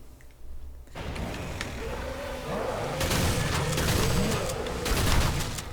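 Doomstick shotgun blasts in Killing Floor 2: a few heavy, booming shots land about two seconds apart over a constant bed of game noise and music, loud and close.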